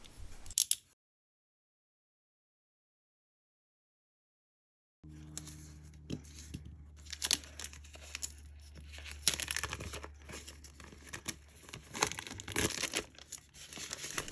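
A cardboard product box for a hobby ESC is cut open, giving close crinkling and tearing sounds with scattered ticks after a brief silent gap.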